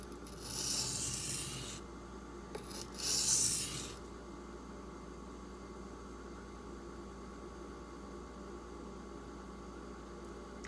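A Benchmade Griptilian 440c steel blade is drawn across a sharpening stone to clean up the burr in two short raspy strokes, close and faint over a low steady hum, then quiet.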